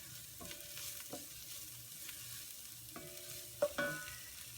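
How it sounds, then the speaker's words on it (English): A spoon scrapes and stirs soup ingredients with cumin and sweet potatoes in a pot, in a few separate soft strokes with a light background sizzle and a sharper clink near the end. "We'll just give that a little stir."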